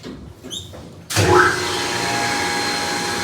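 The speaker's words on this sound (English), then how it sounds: "The motor sounds like the elevator at Westland Eden Condominiums 2 in Hialeah, Florida" Hydraulic elevator motor running in the machine room of a building, starting with a sudden rise into a loud, steady mechanical whir and hum after a few quiet clicks.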